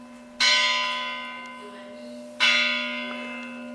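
A church bell in a village bell tower strikes twice, evenly spaced about two seconds apart, each clang ringing out and fading slowly over a steady low hum, fairly close and with no voices.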